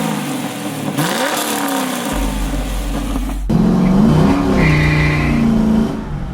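A 1967 Camaro with a swapped LS V8 roars through a burnout, engine revving hard and climbing in pitch as the tires squeal, loud and continuous with a sudden surge midway.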